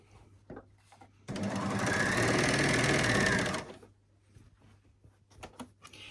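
Sewing machine stitching down the seams of a fabric bottle gift bag, one steady continuous run of about two seconds, close and fairly loud, with faint handling taps before and after.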